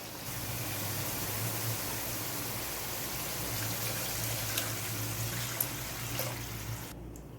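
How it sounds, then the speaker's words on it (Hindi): Two cups of water poured into fried masala gravy for kofta curry in a pan, a steady rushing, trickling pour that runs continuously and fairly loud before cutting off near the end. "अब हम इसमें 2 कप पानी डालेंगे।"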